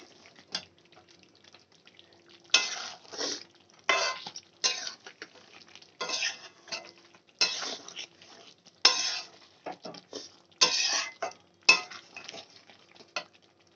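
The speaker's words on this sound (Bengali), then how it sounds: "এবার আমি ভালো করে মশলাটার সঙ্গে মিক্স করে কষিয়ে নেব" Chicken being stirred and fried with coriander and cumin powder in a pan, a series of separate scraping and clattering stirs with short pauses in between, moderately close.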